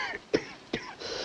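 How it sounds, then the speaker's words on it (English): Two short, sharp coughs about half a second apart, close by, over a soft background hiss. "Just hark at that cough of yours."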